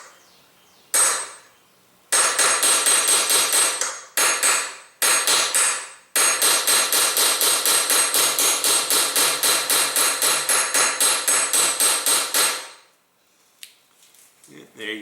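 Quick metallic taps from an aluminum tool drive a Glock pistol sight into its dovetail. The tapping comes in loud, rapid bursts separated by short pauses, then a long steady run, and all of it sounds close.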